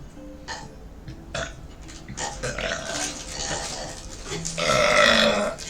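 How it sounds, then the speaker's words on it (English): A loud burp is drawn out over several seconds, rough and swelling toward the end, with faint voices in the background. "If you can do a loud burp, you go."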